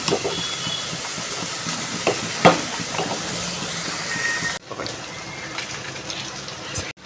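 Cooked rice being drained, hot water pouring off steadily for several seconds with a hissing, splashing rush before it cuts off abruptly.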